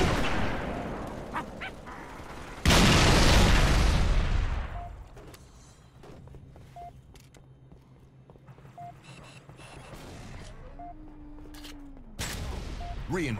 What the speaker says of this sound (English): Just eating chain gunshots.